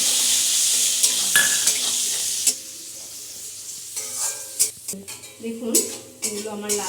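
Cashews and raisins fry with cinnamon in a pan, giving a steady sizzle with clinks and scrapes of a spoon stirring against the metal, close and fairly loud, then breaking into more intermittent stirring and clatter.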